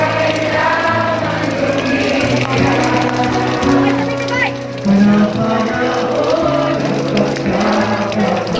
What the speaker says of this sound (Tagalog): di alintana ng mga supporter ang pagbuhos ng malakas na ulan